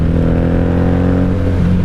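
A Honda Magna motorcycle, likely the 1997 VF750C 750, revs loud and close through an aftermarket exhaust, a steady throaty engine drone held throughout the short burst, with no talk.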